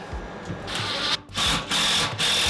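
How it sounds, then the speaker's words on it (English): A power drill drives a screw into the bottom of a floor joist in short, loud, close bursts of whirring, about four pulls with brief gaps between them. "I'm going to put a screw in the bottom of this joist."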